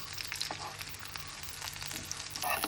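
Mackerel cutlets frying in hot oil in a pan, a steady close sizzle and crackle that runs throughout with no talk.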